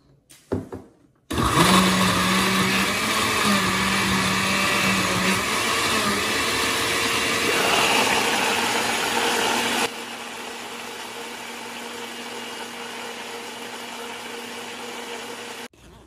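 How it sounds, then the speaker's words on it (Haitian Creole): Blender running steadily while blending a drink with water, a loud constant motor whir with a rattling churn that eases to a lower, smoother hum partway through. "Nous mettons de l'eau dans le blender, et puis après ça, nous prenons blender."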